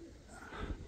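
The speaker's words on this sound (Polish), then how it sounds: "Znowu gołębie zlatują" Domestic pigeons coo softly while flying down to land, a faint, low, muffled murmur with one slightly fuller swell near the end against quiet outdoor background.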